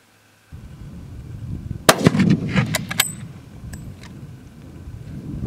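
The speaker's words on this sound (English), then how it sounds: "the elephant gun, 375 H&H Magnum, shooting a 300 grain bullet" A .375 H&H Magnum elephant rifle fires a 300 grain bullet outdoors into a row of penetration targets. One sharp, loud report cracks out around two seconds, followed by rolling echoes and a noisy, fading tail.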